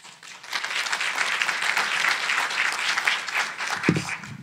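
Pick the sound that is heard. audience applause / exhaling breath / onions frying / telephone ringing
audience applause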